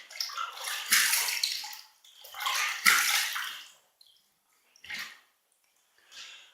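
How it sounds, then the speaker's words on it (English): A razor is rinsed under a running tap after a wet shave with a Merkur Futur, in two long gushes of water followed by two shorter splashes, close and fairly loud with no talking. "Let's rinse."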